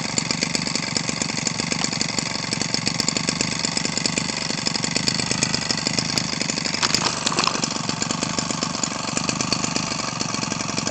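A 25cc Echo hobby engine fitted with a 13 mm Walbro carburetor runs steadily at close range, giving a fast, buzzing two-stroke idle with a slight blip partway through.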